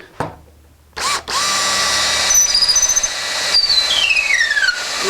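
Power drill boring holes into a wooden acoustic guitar neck joint fixture in a workshop: a brief spin-up and stop, then a sustained close whining bore with squealing pitch sweeps as the bit cuts.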